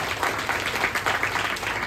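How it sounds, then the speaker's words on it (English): An audience gives a round of applause for a club secretary at a college entrepreneurship cell event, dense loud clapping sustained throughout with no speech. "Huge round of applause for that guy also."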